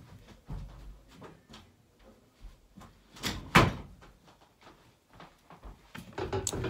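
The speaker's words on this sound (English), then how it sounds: "Let me close my door real quick." A door is closed indoors: a few light knocks and latch clicks lead to a louder, sharp thud of it shutting, followed by quieter rustling.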